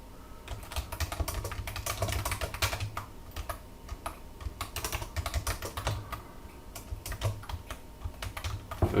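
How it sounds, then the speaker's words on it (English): Steady, rapid typing on a computer keyboard, with dense clusters of close, crisp key clicks running continuously and no talking. "I'm going to have to type a bunch of stuff."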